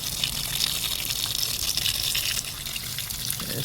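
Water gushing steadily from a tap over a rugged waterproof 5G phone, the Unihertz 8849 Shark3, close and loud and continuous, easing slightly near the end.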